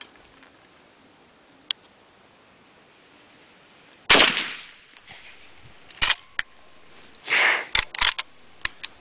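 Several sharp gunshots from a 1982 Marlin 1894C lever-action rifle in .357 Magnum, each a loud crack followed by a decaying tail, spaced a second or two apart with no talk.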